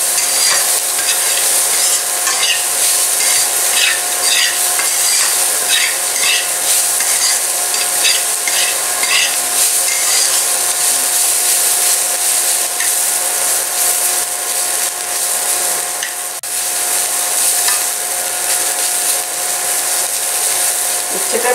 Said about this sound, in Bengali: নাড়াচাড়া করতে করতে প্রায় লাল লাল হয়ে এসেছে।